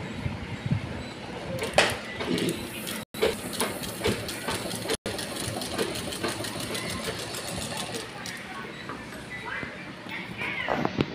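A sewing machine stitches fabric for a round pillow, its fast rhythmic needle chatter running steadily for about eleven seconds with brief stops, while a person talks over it.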